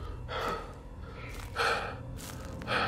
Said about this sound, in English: I'm going to try not to have him breathing so loud in y'all ear all the time